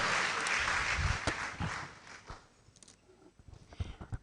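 Audience applause for a keynote speaker at a university international partners' week celebration, a dense burst of clapping that fades after about two seconds into scattered individual claps and small knocks.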